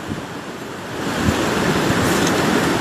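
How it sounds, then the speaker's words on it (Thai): Strong waves, whipped up by wind to as much as five metres, crash on Bang Boet beach in Prachuap Khiri Khan, Thailand, as a continuous roaring wash that grows louder partway through, with wind noise and no talking. "คลื่นลมที่กำลังก็ยังแรงอยู่นะฮะตอนนี้"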